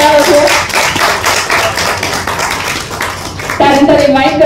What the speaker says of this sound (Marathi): आपल्या सगळ्यांचेच लाडके मकरंद देशपांडे यांच्यासाठी जोरदार टाळ्या होतो